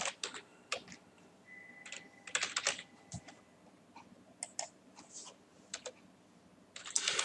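Quick bursts of typing on a computer keyboard, close and clear, with short pauses between runs of keystrokes while entering items into a software list; no one speaks.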